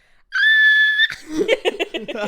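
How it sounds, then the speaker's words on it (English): A person screams into a microphone, a loud, piercing, sustained high shriek lasting under a second that breaks into laughter. "scream into the microphone"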